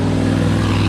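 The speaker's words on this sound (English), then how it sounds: "Burbling away as he comes past me, the inverted commas Model A" A Ford Model A, a 1927-era car, burbles past at a hillclimb, its engine a steady low rumble with a throbbing exhaust beat, loud and close throughout.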